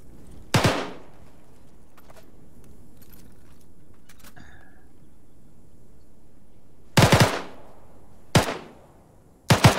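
Sparse bursts of automatic rifle fire in a military shooter game, short loud volleys separated by long quiet stretches, one near the start and three clustered toward the end.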